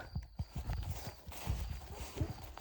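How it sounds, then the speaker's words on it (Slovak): A horse walks nearby at night, its hooves clopping in an uneven rhythm of close, fairly loud steps on the ground, with no talking. "Je niekde kôň, neviem, či ho vidíte."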